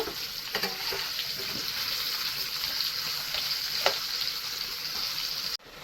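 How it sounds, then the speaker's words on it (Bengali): Continuous crackling sizzle of potatoes frying in hot oil, steady throughout with a few scraping stirs, ending abruptly. "আলুটা আমি হালকা লাল করে ভেজে নেব।"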